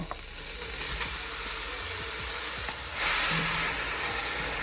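Onion, carrot and celery, blitzed fine in a food processor, sauté in a pan with a steady, close sizzle and occasional stirring scrapes, no voices.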